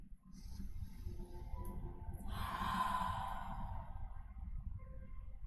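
One deep, slow breath during a yoga session, a soft breathy inhale swelling into a fuller airy exhale, close and quiet, with no speech.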